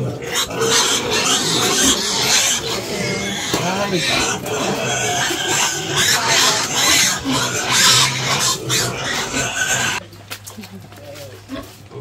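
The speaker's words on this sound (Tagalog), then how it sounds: "Baboy!" A pig oinking and squealing loudly and continuously up close, mixed with people talking, before the noise abruptly drops off.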